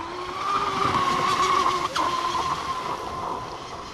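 A BJ42 radio-controlled boat spinning out on open water gives a high, steady motor whine that dips sharply for an instant mid-spin, then resumes slightly quieter.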